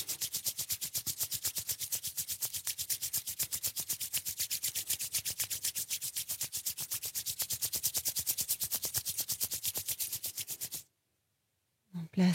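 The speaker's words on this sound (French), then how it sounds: "Joignons les mains, on les frotte ensemble." Two hands rub together in a steady, fast rhythmic swishing that runs for about eleven seconds, quiet and close, then stops abruptly.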